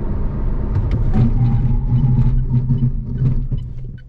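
A battery electric car brakes hard from 100 km/h to a stop, with loud road and tyre rumble and a faint motor hum that fade as it slows.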